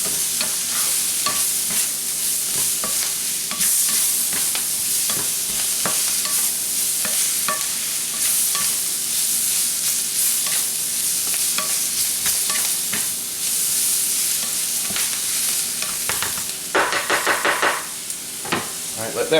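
A vegetable mix with taco seasoning cooks in a pan for a taco hotdish, a steady loud sizzle with frequent spoon knocks and scrapes as it is stirred, and a harsher burst toward the end.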